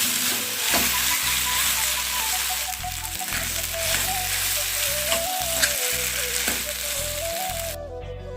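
Grated steamed potato sautéed in a pan for a sweet fasting-day shira, sizzling steadily throughout with the scrape and clatter of stirring, close and fairly loud.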